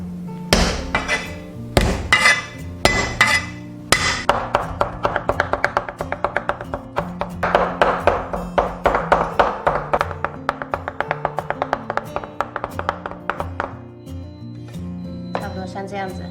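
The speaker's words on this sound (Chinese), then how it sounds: "所以自己剁会比较好。" Shrimp meat chopped on a board with a kitchen knife: a long run of sharp, rapid, rhythmic thwacks, sometimes in quick bursts, close and loud, with a few heavier hits at the start and a pause near the end.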